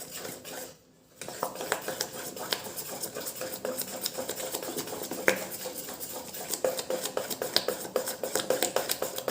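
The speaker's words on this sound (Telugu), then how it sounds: "సాల్ట్ బాగా కరిగేదాకా బాగా కలుపుకుందామండి." A spoon stirs salt into a wheat-flour dough mixture in a bowl, scraping and clinking steadily against the sides in a close, busy rhythm after a short pause at the start.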